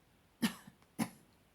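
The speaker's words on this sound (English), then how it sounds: "She coughs again." Two short, sharp coughs about half a second apart, close and fairly quiet, with a faint throaty sound between them and silence after.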